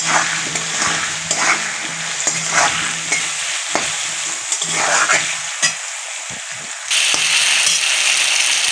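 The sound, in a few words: frying potatoes with turmeric powder in a pan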